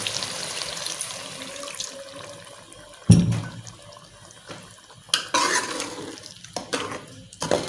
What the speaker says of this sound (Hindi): अभी थोड़ा सा पानी डाल के हम इसको छोड़ देते हैं, भूनते हैं।